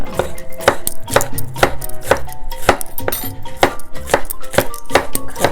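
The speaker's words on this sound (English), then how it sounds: "Cut the pepper as small as possible." A knife chops pepper finely on a cutting board for a flour and onion mix, with a steady, rapid run of sharp, close knocks. No one speaks.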